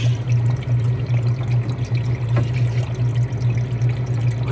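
Water runs steadily across the water tray of an ice machine that is not making ice, a continuous close trickling pour with a low steady hum from the machine underneath.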